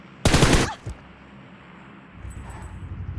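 A single loud burst of gunfire in Fortnite, fired at glass, rings out sharply for about half a second and then gives way to quiet game ambience.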